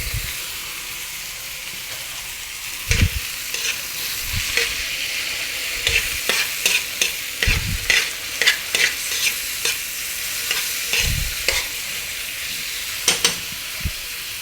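Liver sizzling in a pan for canton guisado, a steady frying hiss broken by repeated scraping and clanking stirs that come in irregular bursts, close and fairly loud.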